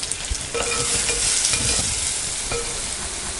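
Tomato and rock salt get stirred into onions frying in a pan for pumpkin sambar, with a steady loud sizzle and a spoon scraping and stirring throughout, and no voices.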